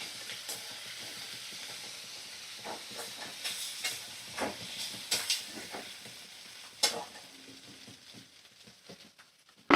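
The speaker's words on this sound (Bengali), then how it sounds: "পেঁয়াজ আলু কাঁচা লঙ্কা আমি ভালো করে নাড়াচাড়া করে ভাজা করে নিচ্ছি" Onion, potato and green chilli fry and sizzle in a pan while being stirred, a steady soft hiss broken by scraping stir strokes and clinks, fairly quiet and close with no voices.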